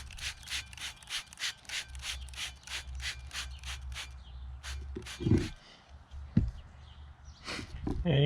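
Rhythmic back-and-forth rubbing strips a flaking golden coating off cast iron down to bare metal, giving a close, brisk scrubbing that comes in regular strokes and then slows, with a voice speaking in between.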